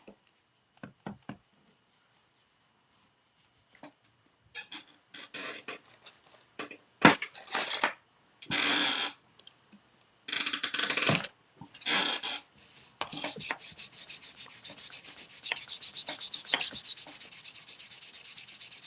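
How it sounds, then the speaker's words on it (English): Varnish being rubbed off a wooden coffee table with an abrasive, coming in scattered scrapes and then longer bursts of steady, close, gritty rubbing with short pauses between strokes. "I'm just taking the varnish off. I want it to match."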